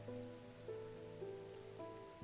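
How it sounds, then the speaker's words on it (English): Soft, continuous rainfall in the video game Strange Antiquities, heard beneath sustained musical tones that shift pitch now and then. "So today is raining."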